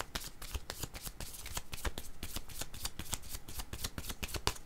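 Tarot cards shuffled by hand in a steady run of rapid riffling flicks, close and crisp, continuing without a break and with no talking.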